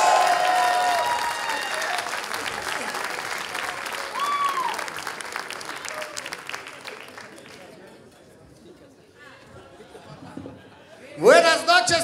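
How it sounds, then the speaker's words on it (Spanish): An audience at a live comedy show applauds, a full burst of clapping that gradually thins and fades, followed by a brief sharp sound near the end, with voices in the room. "Fuerte el aplauso, cabrones."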